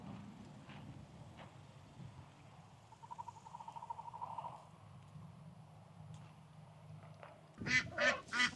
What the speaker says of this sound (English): I know, our lone duck over here.